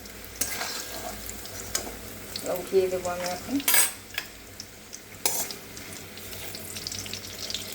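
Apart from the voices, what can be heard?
bitter gourd and lentil dumplings frying and stirred in oil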